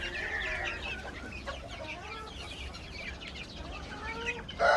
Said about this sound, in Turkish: Silver Brakel civcivler. Hepsi çok sağlıklı.